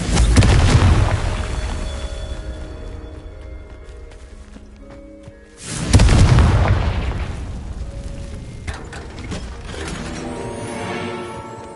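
Confringo blasting spell in a wizarding video game, a loud booming explosion that rolls on with debris and rumble, then a second heavy blast about six seconds in followed by crackling aftermath.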